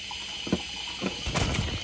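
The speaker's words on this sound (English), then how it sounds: "sorry about the toilet running. I just flushed it." A toilet runs and refills after a flush, a soft continuous hiss of water with a few gurgling splashes near the end, faint and close in a quiet room.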